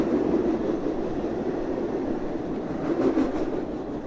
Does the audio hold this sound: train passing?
yes